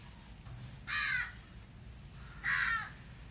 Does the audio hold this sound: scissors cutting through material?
no